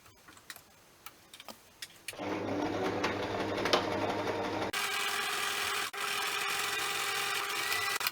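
A sewing machine with a hemming foot stitches fabric along the edge of a Velcro strip: a few light clicks, then a close, steady mechanical whir that runs on with brief pauses.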